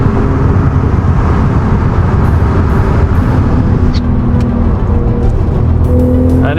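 A Porsche 991.2 Carrera 4S Cabriolet driving hard through tight, twisty bends on a country road, its engine a loud, continuous drone with steady road and wind roar heard from inside the car.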